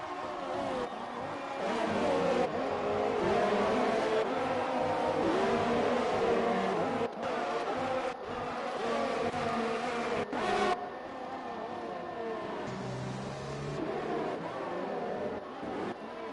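Race cars in an F1 racing video game at the Australia round, engines buzzing and revving steadily along the start-finish straight, a continuous droning whine that rises and shifts as cars pass, with a faint commentating voice.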